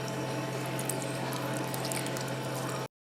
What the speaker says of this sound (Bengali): এবার আমি এই যে বাটি ধোয়া জলটা মানে হালকা একটু জল বাটি ধুয়ে সেই জলটাই দিয়ে দেবো